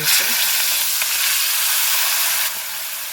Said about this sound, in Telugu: ఇప్పుడు ఆ పీసెస్ మనము డీప్ ఫ్రై చేసుకోవాలా, మళ్ళీ మనం గోలించుకోవాలి ఒకటొకటి